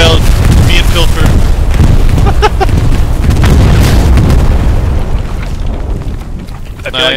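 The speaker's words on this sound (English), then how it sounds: "they dropped a bombing run on me" Bombing-run explosions in the World War II shooter Hell Let Loose hit as loud, close, overlapping booms with rumbling debris, rolling on continuously before easing slightly toward the end.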